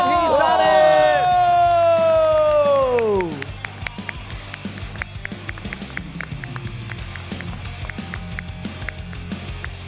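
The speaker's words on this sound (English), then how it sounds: "Come on, guys, cheer them on!" Crowd at the Singapore Expo cheering firefighter challengers to the finish of a firefighter and paramedic challenge, a loud roar and shouting that drops off after three seconds into scattered taps, thuds and background chatter.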